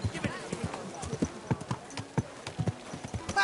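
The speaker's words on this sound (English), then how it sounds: "Easy, good horse. You almost ran me over." Horse hooves clip-clop in a quick, irregular rhythm in the medieval video game Kingdom Come Deliverance 2, close and fairly loud, with a voice talking over the steps.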